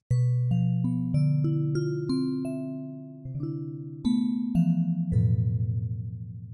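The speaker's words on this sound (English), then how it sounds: "Collision is fantastic again for things like bell sounds or marimba sounds or any of those kind of tuned percussion sounds." Ableton's Collision synth plays a run of clear, bell-like tuned percussion notes, each ringing out and overlapping the next in a steady rising and falling melodic sequence, alone with no other sound.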